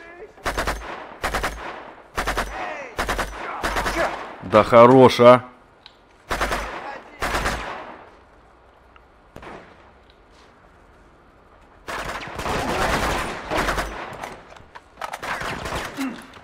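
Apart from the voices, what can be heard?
gunfire in video game Uncharted 2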